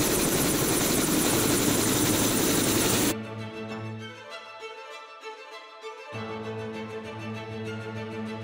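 A helicopter on a scenic flight over Queenstown's mountains drones steadily, first a loud broadband rotor and wind roar, then a quieter cabin hum with steady engine tones, continuous throughout.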